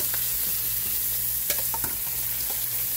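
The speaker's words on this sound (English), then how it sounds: "I'm going to go ahead and start putting my shrimp in." Shrimp frying in a hot pan, a dense continuous sizzle with a few light stirring taps and scrapes, close and fairly loud with no talking.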